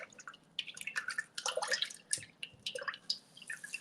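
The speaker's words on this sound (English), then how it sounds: "I'm just gonna give this a little stir." Stirring a melted lip balm mixture of wax and flavoring produces soft, close, irregular clinks and liquid scraping taps against a container, quiet and uneven with brief pauses.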